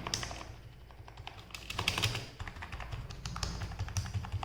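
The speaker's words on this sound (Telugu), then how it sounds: "టైప్ చేసినప్పుడు కూడా మీకు సౌండ్ అయితే బాగా తక్కువగానే వస్తుంది." Keys on a Zebronics Transformer gaming keyboard are tapped in quick, irregular bursts, close up and fairly soft, with a few heavier clacks mixed in.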